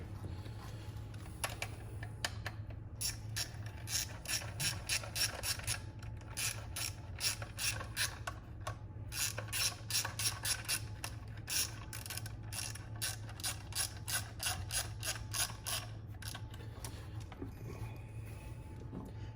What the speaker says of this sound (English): That's my ratchet there.